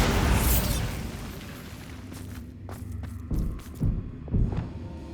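A Bombarda explosion spell going off in Hogwarts Legacy, a loud booming burst that rumbles and fades, followed by several softer thuds and footsteps.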